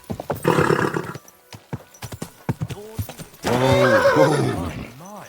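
Rapid hoof clops lead into a loud, wavering horse whinny, followed by snorts and a shorter neigh close by, from the video game Kingdom Come: Deliverance.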